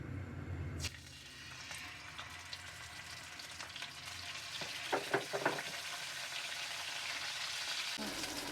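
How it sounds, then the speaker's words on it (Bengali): Turmeric-and-salt marinated parshe mullet fish fries in hot oil, a continuous close sizzle with a sharp burst as pieces go in at the start and a few crackling pops later, no voices. "এটাকে আমি এখন ভাজবো তেল গরম হয়ে গেছে অলমোস্ট"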